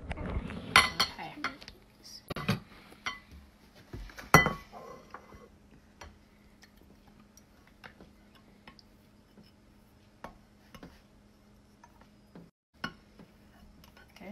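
Children mix chili and corn bread ingredients together in a bowl in a home kitchen, with a burst of close clinks and scrapes of utensil on bowl early on. Quieter scattered taps and light clatter follow.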